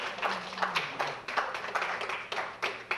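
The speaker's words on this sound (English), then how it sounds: "Give them another round of applause." Scattered applause for speakers at a disability awareness event, uneven bursts of clapping from a modest audience that rise and fade in waves, moderately close, with no speech.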